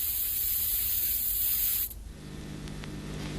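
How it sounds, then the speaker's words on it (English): A cheap can of spray paint lets out one steady, close hiss for about two seconds, then cuts off abruptly and leaves a quieter background hum. "which was accomplished quite simply with a cheap can of spray paint"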